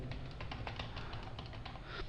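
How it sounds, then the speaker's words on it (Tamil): Fingers typing on a computer keyboard, a rapid, steady run of light key clicks close to the mic with no talking. "நிறைய சும்மா டைப் பண்ணிக்கிறேன்"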